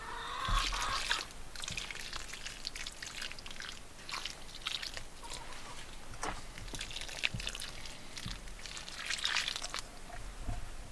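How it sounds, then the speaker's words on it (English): Water sprinkling and dripping onto soil around newly planted vegetable seedlings in a garden bed, a steady close trickle with scattered drips and splashes throughout, no voices. "I'm gonna water them in really well."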